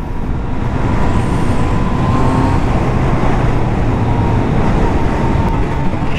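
A Yamaha MT-09 three-cylinder motorcycle being ridden on the road, giving a steady, close, loud engine drone with wind and road roar that continues without a break.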